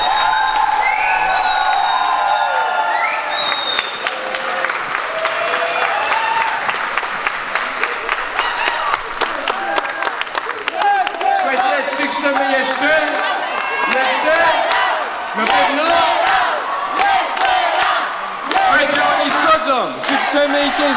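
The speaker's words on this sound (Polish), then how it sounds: "Samba, trio, wielkie brawa dla nich!" Applause from a young people's gathering for a samba trio, mixed with whoops and cheering shouts and lively crowd voices rising over steady clapping.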